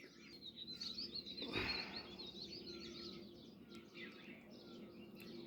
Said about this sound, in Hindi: उसमें चिड़िया पक्षी